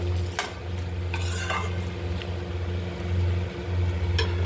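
Bottle gourd and prawns sautéing and being stirred in a pan, giving a steady close sizzle with a low bubbling hum and occasional sharp scrapes of the spatula against the metal.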